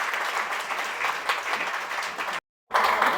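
A crowd at a film trailer event gives loud, sustained applause to welcome soldiers' wives. The clapping cuts out abruptly for a moment, then returns just as strong.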